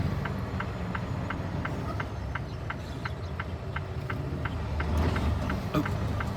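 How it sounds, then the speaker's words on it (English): A car passes a stopped truck waiting to turn, a steady road rumble with faint regular ticking over the truck's idling engine, growing slightly louder toward the end, with no talk. "I need to make this turn, but I gotta wait for this car to go by."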